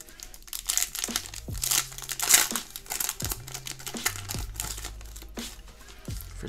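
Crinkling plastic wrapper of a 2019/20 Panini Donruss Optic basketball card pack being torn open, steady close rustling with sharp crackles and small tearing bursts, with quiet background music underneath.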